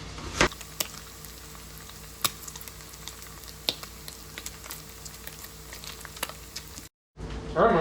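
Bacon frying crisp in a pan on a camp burner, a steady close sizzle with crackling pops and sharp spatters scattered throughout, then a brief break before more popping.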